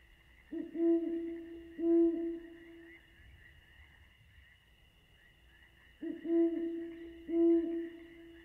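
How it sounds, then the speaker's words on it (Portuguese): Four soft owl hoots in two pairs, separated by a quiet gap, over a steady high drone of night insects. "E o canto da coruja ao longe."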